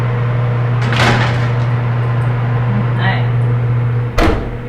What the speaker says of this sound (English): We'll put these in the oven.